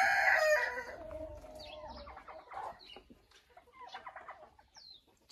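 Silkie hens in a coop cluck and murmur in short, uneven bursts, with a louder squawk at the start before the calls settle into soft, scattered clucks close to the listener.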